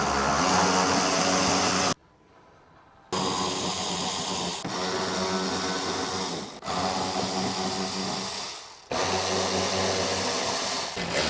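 A power tool tightens bolts on a carbon fiber front lip and side skirts on a 2023 Toyota GR Corolla, running in loud sustained bursts broken by short pauses, close by with no talk.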